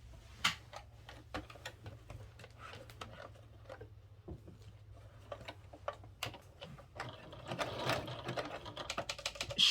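A sewing machine runs a straight stitch around a reversible bucket hat, with rapid ticking needle strikes in short runs and pauses, close and fairly quiet over a low steady hum.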